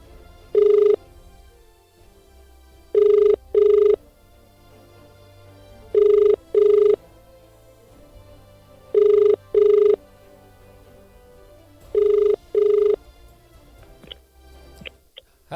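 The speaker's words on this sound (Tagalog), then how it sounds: "Tatawagan na po natin po si Sharon" Outgoing telephone call ringback tone: five paired double rings repeating about every three seconds, clear and moderately loud over a faint low background hum, with no talking.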